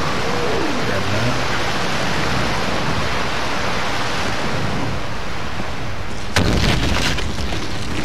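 Waterfall in Peter Jackson's King Kong video game: a loud, constant roar of rushing water across the whole stretch, with a brief burst of another noise near the end.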